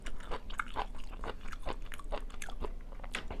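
Crunchy chewing of black fungus mushroom from a shabu soup, a steady run of close, loud crisp bites and mastication clicks with no talking.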